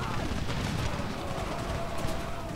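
Troops fire a musket volley in the Darthmod Empire game during a battle against Swedish rebels, a dense crackling burst of distant gunfire blended with a roaring battlefield wash, with a voice speaking over it.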